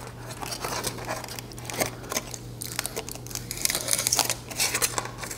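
A knife trims excess balsa wrapping from the edges of a scale sport model. Close, dry scraping and snipping strokes come in an uneven series over a low steady hum, with no one talking.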